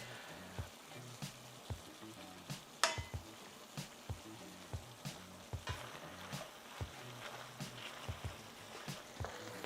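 Pasta and vegetables sizzle and fry in a pan with extra liquid, a steady crackling hiss broken by irregular soft pops and the occasional scrape of stirring, close and moderately quiet with no talking.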